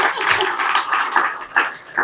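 A crowd applauds at a county meeting, steady clapping from many hands filling the room for two seconds, fairly close and even with a few louder bursts.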